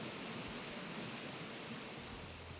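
Steady, even rush of a waterfall in the Animal Crossing video game, a constant broadband hiss with no talking.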